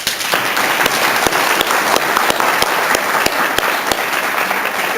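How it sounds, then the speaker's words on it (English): An audience at a Republican attorney general debate forum in Arizona applauds steadily, with dense sustained clapping and no voices on top. "Let's give one final applause to both Republican candidates, please."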